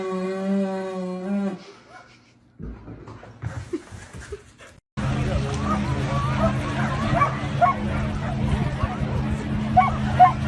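A dog barks and yips among busy crowd chatter and babble, after a short stretch of clearer voices or whines at the start; the barking is fairly loud and repeated over steady background hubbub.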